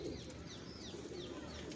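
A Teddy pigeon with a pink neck ring gives a short, faint, low burbling coo nearby, with a few soft chirps in the background and no talk.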